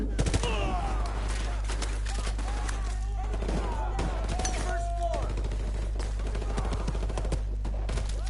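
Rapid, dense gunfire in Call of Duty 4: Modern Warfare, with many sharp shots and automatic bursts close by over a constant low hum, and a voice speaking at points.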